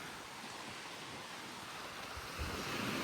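Sea waves on a windy beach in the Philippines: continuous broad surf wash with gusting wind rumbling against the microphone, swelling slightly near the end, with no talking.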